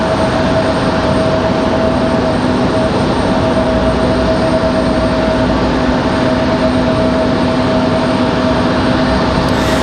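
A business jet at Raleigh-Durham International Airport gives a steady, loud broadband jet roar with a constant whine running unchanged throughout, no talk over it.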